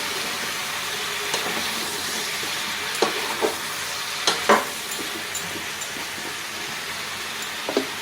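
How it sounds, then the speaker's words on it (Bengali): Fish, onion and raw pumpkin frying together in an open pan with turmeric, giving a steady loud sizzle throughout, broken by a few sharper crackles and stirring clatters. "এবার এইটা আমি একসাথে মাছ পেঁয়াজ আর কুমড়ো সব নিয়ে ভাজবো"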